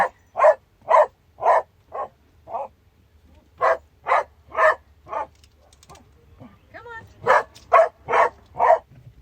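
Two dogs bark repeatedly in short, evenly spaced bursts, loud and close, around a car, with a brief lull midway before the barking resumes in a quicker run.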